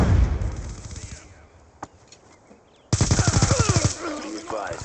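Rapid gunfire bursts in Call of Duty Black Ops II, a loud stretch of automatic fire, then a near-quiet gap with a single sharp shot, then another dense, loud burst of machine-gun fire with game noise and voices.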